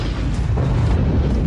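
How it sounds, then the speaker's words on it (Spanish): A large explosion tears apart a World War I warship, heard as a loud, sustained deep boom and rumble that fills the whole moment with no voices. "Una segunda y más grande explosión destrozó la embarcación."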